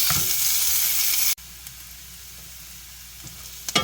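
Shallot, garlic and ginger sizzle loudly in hot oil in a pan, a dense bright frying hiss that drops abruptly to a quieter steady crackle.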